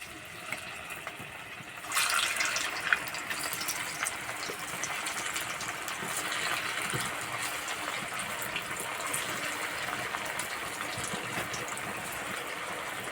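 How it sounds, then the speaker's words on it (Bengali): Semolina sweets drop into hot oil and fry with a sudden burst of sizzling that settles into a steady, close bubbling hiss, with no talking. "এবার ভেজে নেব।"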